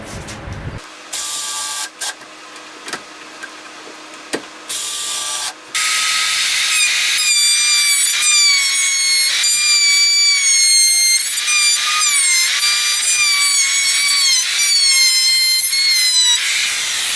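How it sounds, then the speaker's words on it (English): A router cuts along the wooden edges of a potting station, starting with a few short bursts, then settling into a loud, continuous high whine with wavering pitch as it moves along the wood. "I need to use a router along the edges over here on the top and down here on the bottom"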